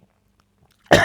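A single loud, harsh cough from a person who ate breadsticks without drinking bursts out abruptly near the end after near silence.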